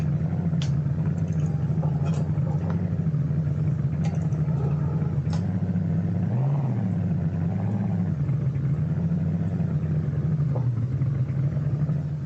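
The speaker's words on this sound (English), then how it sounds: "it is indeed a very loud truck" A deep, loud pickup truck engine in BeamNG.drive rumbles steadily at idle, with a brief rev in the middle and a few faint clicks over the low drone.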